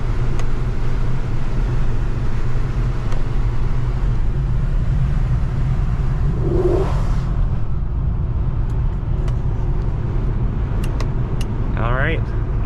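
A 2023 Subaru Ascent Limited cruising uphill on a road, giving a steady, loud low rumble of engine and road noise from inside the cabin, with a brief whoosh of a passing sound partway through.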